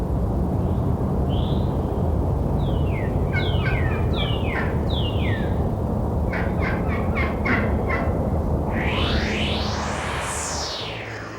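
A mouth diaphragm turkey call imitates a hen turkey's yelps: a series of short rising-falling notes, then quick clustered yelps and two long sweeping calls, loud and close over steady background hiss.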